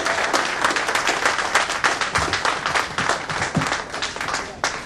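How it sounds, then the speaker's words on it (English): An audience at a speech event applauds for Bobby Kumar, sustained dense clapping from a crowd with a few voices mixed in, loud and steady throughout. "So Bobby Kumar, give him a round of applause"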